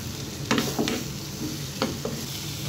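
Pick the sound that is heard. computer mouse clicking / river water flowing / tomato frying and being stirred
tomato frying and being stirred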